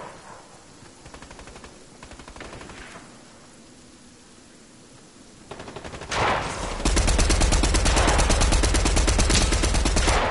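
SMG gunfire in Fortnite, starting as faint, scattered bursts and then swelling into loud, dense, continuous rapid fire over the final few seconds.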